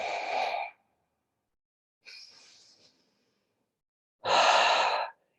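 Deep, slow breaths during a guided meditation and breathing practice, a long exhale, a softer breath, then another strong airy exhale, close and alone with quiet gaps between.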